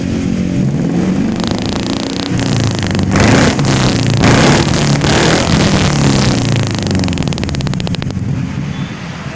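A pickup truck engine revving hard through an HKS aftermarket exhaust, loud and close, the roar rising and holding for several seconds before easing off slightly, with a raspy, throaty tone and no voices.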